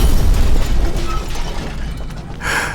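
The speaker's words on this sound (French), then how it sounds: "la mort de ses parents dans l'explosion accidentelle de leur voiture" A car explodes in the film The VelociPastor: a loud, deep booming rumble that slowly fades and thins into a lingering crackle, with no voices.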